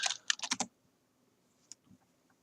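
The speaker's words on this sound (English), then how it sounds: "And I can't type on your keyboard." Quick burst of typing on a computer keyboard, several close, crisp keystrokes clustered at the start, then near silence broken by a couple of faint clicks and a soft tap.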